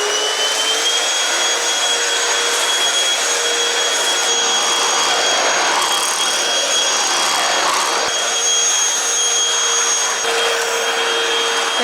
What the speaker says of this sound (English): I'm going to hoover this now